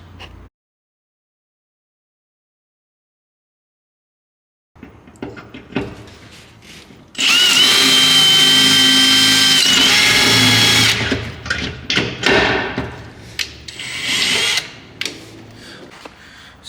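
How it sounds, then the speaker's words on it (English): After a brief bump and a few seconds of silence, a power drill whirs loudly and steadily drilling out a broken bolt on a Toyota Tacoma, then stutters in short bursts with clanking tool noises. "So I think we're going to try and drill it."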